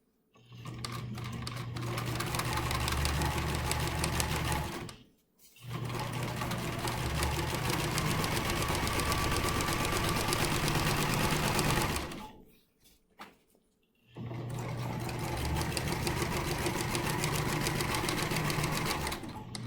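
A sewing machine stitches the hem of a cloth napkin in three long, steady bursts of rapid needle clatter, each broken by a brief pause as the machine stops and starts again.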